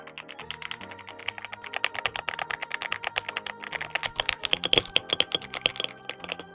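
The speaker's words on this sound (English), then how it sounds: "so like when I'm typing stuff, it sounds really nice" Rapid typing on a mechanical keyboard, a dense run of crisp clicky keystrokes with a few louder taps, close and steady.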